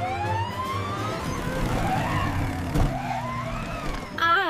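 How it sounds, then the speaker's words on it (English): A cartoon police car siren wails in rising and falling sweeps over a vehicle's rumble, loud and close, with a brief clatter near the end. "Sirens on."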